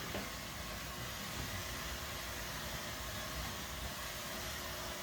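A steady, unbroken whoosh of hot blowing air from a blower drying paint on a 2000 Ford E-150, running continuously at close range with no pauses.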